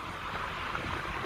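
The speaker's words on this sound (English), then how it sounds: "I'm sorry you guys, it's so windy" Strong wind blowing outdoors in Seligman, Arizona, a steady rough roar buffeting the microphone, loud and continuous with no voices.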